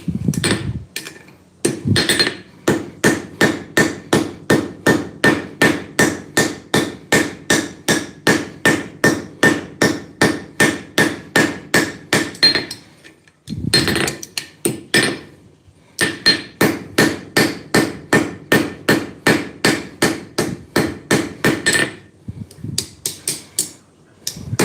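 Hammer striking a rivet to shorten it at a blacksmith's forge, a long run of rapid, evenly spaced metallic blows in two bursts separated by a short pause, loud and close.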